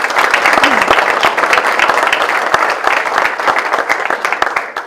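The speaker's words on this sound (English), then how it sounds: "I'd like to give her a round of applause here." Loud, dense round of applause from a crowd at a United Way campaign celebration as the board president is brought up, sustained clapping from many people close by.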